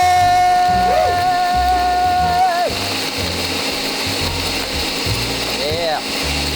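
A kitchen blender whirs through a spinach smoothie with a loud, steady motor drone and churning rattle, while a few brief tones and sounds occur near the start and near the end.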